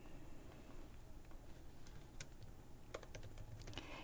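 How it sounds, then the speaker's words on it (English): Computer keyboard being typed on: soft, irregular key clicks spread across several seconds, becoming quicker and more clustered toward the end, close but quiet, with no voices. "and I start typing"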